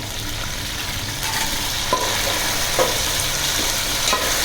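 Mint leaves frying in a pan for egg biryani make a continuous close sizzle, with soft stirring scrapes and a few light taps.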